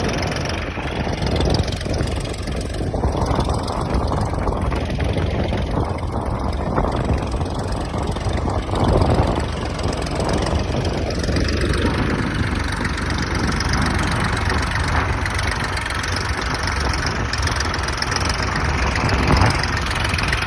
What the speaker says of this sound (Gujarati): તમે ટ્રેક્ટરનો અવાજ જોયો કહો?